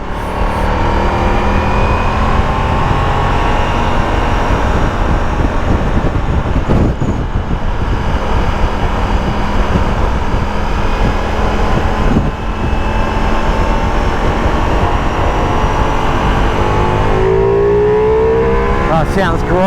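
A Ducati Multistrada V4S motorcycle with its exhaust valve open gives a loud, continuous engine roar with rising and falling revs and heavy wind noise throughout.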